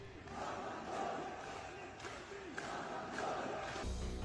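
A large crowd gathered at a Pashtun jirga, a steady roar of many voices with swelling surges of shouting, distant and diffuse throughout.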